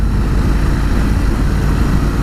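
A standard 2019 Ducati Scrambler 1100 engine drones steadily while ridden through Tuscany, a loud, continuous low rumble with wind-like broadband noise and no talk.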